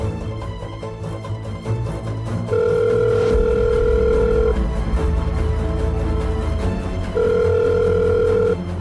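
A phone on speakerphone rings out in repeated long electronic tones with pauses between them, loud and close, over a faint background bed of dramatic music and no speech.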